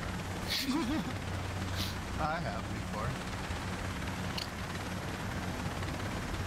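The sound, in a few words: helicopter in Ghost Recon Breakpoint video game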